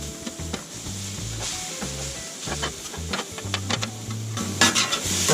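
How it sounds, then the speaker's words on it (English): Philly cheesesteak meat sizzling on a hot Blackstone griddle as a scraper breaks it apart, with repeated close metal scrapes over a constant frying hiss and background music. "I'm going to pull all this stuff apart, break it up nice and whatever size you like it"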